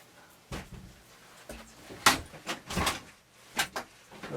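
A locked door is tried, giving a series of irregular clunks, rattles and thumps from the handle and frame over about four seconds, fairly quiet and with no talk.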